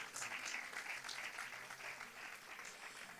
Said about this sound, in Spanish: Sí, pueden aplaudir.